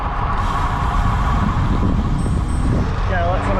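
Steady road traffic with trucks and cars passing close by on a road in Aichi Prefecture, Japan, a dense continuous engine rumble and tyre roar with a brief high whine near the end.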